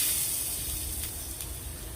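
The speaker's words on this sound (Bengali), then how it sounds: "আগে একটু তেলে ভেজে নিলাম" Carrots frying in hot oil in a pan, a steady broad sizzling hiss that holds evenly throughout with no voices.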